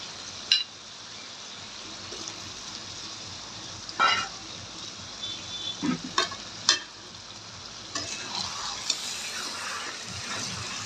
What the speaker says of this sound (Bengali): আমি আলু ছোটো ছোটো কেটে নিয়েছি আলুটা দিয়ে দিব